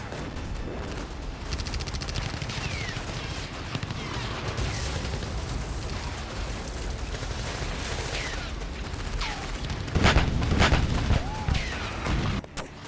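Combat in the Nagorno-Karabakh war: a steady rattle of gunfire and blasts runs throughout, with occasional whistling streaks overhead. A heavier, louder burst lands near the end before the noise settles.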